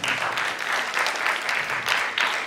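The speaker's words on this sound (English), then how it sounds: "It's time to give the ladies in the back a round of applause." Audience applause for women seated at the back of a leadership-seminar hall: dense, steady clapping from many hands, sustained and fairly loud throughout, with no talking over it.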